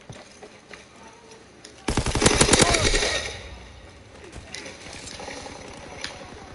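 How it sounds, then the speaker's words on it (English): Automatic gunfire in the World War II shooter Call of Duty WW2, a sudden loud rapid burst that tails off, followed by lighter scattered shots. "Hear a lot of gunfire over here."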